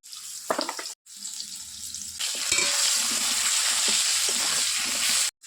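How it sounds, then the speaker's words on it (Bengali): Potatoes with salt and turmeric frying in oil: a few stirring clatters, a brief pause, then a strong steady sizzle with crackles up close, ending abruptly. "এবার আলুগুলো লবণ হলুদ দিয়ে ভেজে নেব।"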